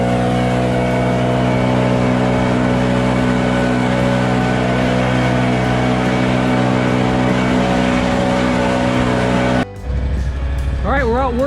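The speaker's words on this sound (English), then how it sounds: "I have not been on a zero-turn mower for probably a year." Zero-turn lawn mower on a commercial property in Bellingham, its loud, steady engine drone running close and unbroken for most of the stretch, then cutting abruptly near the end as a person starts talking.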